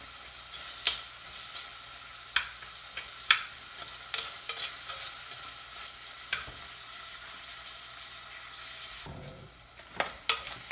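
Onion and cooked clam meat stir-fry in a hot pan for a clam thoran, giving a continuous soft sizzle broken by sharp scraping and clacking taps of a spatula stirring.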